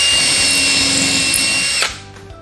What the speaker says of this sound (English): I will drill